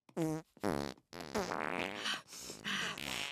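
Cartoon flatulence from the Family Guy time-travel gag: a string of loud, close, wet and buzzy farts, two short blasts followed by a longer, sputtering rasp, with no talking.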